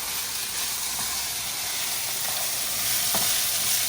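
Potato bhaji is stirred with salt in a hot pan, a continuous sizzle and hiss of frying with soft scraping strokes of the spoon close up, and no talking.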